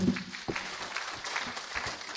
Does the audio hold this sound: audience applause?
yes